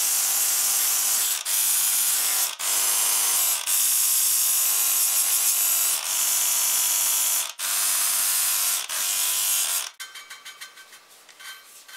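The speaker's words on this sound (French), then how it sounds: "on entend le grain, le bruit qui va faire le grain au niveau de la soupape et de la culasse" An Audi V6 Turbo engine valve is hand-lapped against its cylinder head, making loud, close, gritty rubbing strokes in a steady rhythm with brief pauses between them, ending in fainter, choppier scraping.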